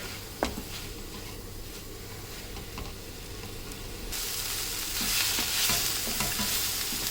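Manathakkali greens sauté in a pan with a soft, continuous sizzle and occasional spatula scrapes, the hiss swelling noticeably louder in the second half.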